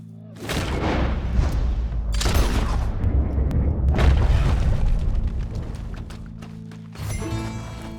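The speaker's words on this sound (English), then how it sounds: "He shot the thing!" Gunfire and booming blasts from Red Dead Redemption 2 fill most of the stretch, loud and dense, with a brief break before another burst near the end.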